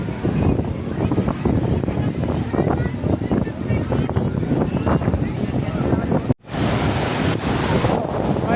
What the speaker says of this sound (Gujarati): ઠંડો પવન આવે છે